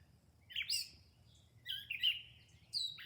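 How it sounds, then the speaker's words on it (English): A small bird calls in the early morning, three bright, sharp chirping bursts spaced about a second apart, fairly close and clear over a quiet background. "that must be a female bird because she's awfully loud"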